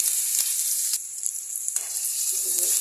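Chopped onion fries in a pan for a dried fish palya, giving a steady, close, bright sizzle with a few soft scrapes of a spoon stirring through it.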